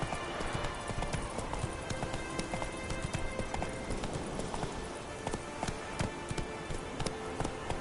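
Horse hooves gallop in The Witcher 3 with a steady, fast clip-clop rhythm, close and continuous, set over a dense game soundscape and occasional brief voice calls urging the horse on.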